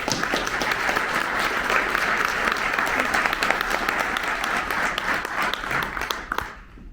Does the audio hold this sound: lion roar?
no